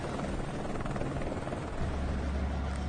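A helicopter air taxi flies over São Paulo, its rotor and engine roar loud, steady and close for the whole stretch, with no talk over it.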